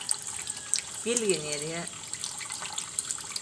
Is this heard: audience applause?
no